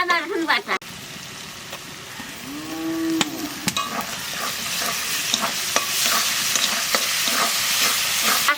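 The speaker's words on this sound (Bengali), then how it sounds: "এইবার পেঁয়াজ দিয়ে দেবো এগুলো" Onions dropped into hot oil in a Bengali kitchen burst into a loud, dense sizzle that continues steadily with occasional stirring clicks; a voice and a short tonal sound come just before.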